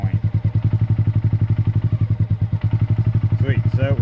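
A 2023 Honda Grom motorcycle engine idles in first gear as the clutch is slowly let out, a rapid, even, close putter of single-cylinder firing pulses; a voice chimes in briefly near the end.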